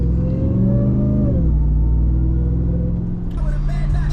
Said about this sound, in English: Have you ever heard a sexier sound than the Hellcat motor super, like, whine, supercharger whine?